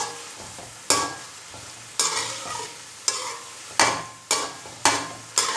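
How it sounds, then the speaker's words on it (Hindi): Onion, garlic and ginger frying in a pot for a chicken and mixed vegetable rice, with a steady close sizzle broken by about eight sharp stirring scrapes and clanks. "अब इसे और मज़ीद भूनेंगे जब तक प्याज और लहसुन अदरक का कच्चापन दूर ना हो जाए, इतनी देर तक इसे और फ्राई करते हैं।"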